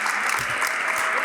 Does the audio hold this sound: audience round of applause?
yes